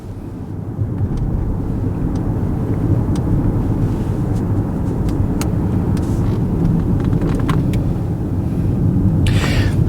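BMW 750 sedan with a repaired air suspension driving along, a steady loud low road and engine rumble heard from inside the cabin, with faint clicks and rattles scattered over it and no talking.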